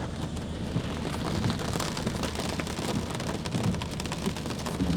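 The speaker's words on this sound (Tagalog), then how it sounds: "So malakas pa ring ulan." Heavy rain pours steadily on a city street in Makati, Manila, near the LRT, a dense continuous hiss with patters on surfaces and a low rumble beneath, no voices.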